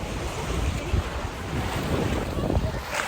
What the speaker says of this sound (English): We finally made it to the beach.